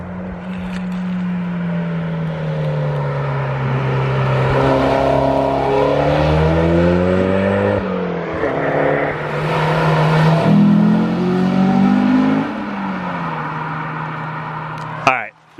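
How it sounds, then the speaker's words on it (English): Cars accelerating out of corners on a North Carolina mountain road, their exhaust notes rising and falling in long swelling pulls as they pass, with someone talking throughout. "That was a pretty sweet exhaust note."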